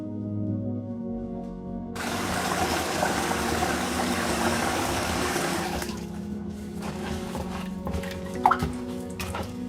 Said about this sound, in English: So you're going to stir it and pour out the water like this until it's very clear.